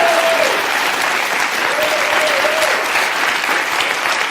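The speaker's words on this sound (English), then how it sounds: "These fucktards in the crowd are cheering it all up" Studio talk-show audience cheering and applauding, dense sustained clapping filling the room from start to finish, with a brief whoop rising over the crowd.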